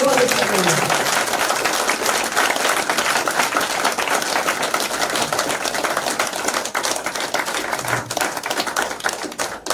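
A seated audience at a leadership event in Mount Abu bursts into loud, dense clapping that holds steady for about ten seconds, with a voice briefly audible near the start and again later.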